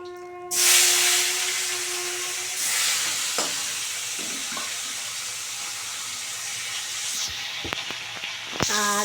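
Steady hissing sizzle of rohu fish frying in hot oil, close by, with a few clinks and scrapes of a utensil stirring in the pan.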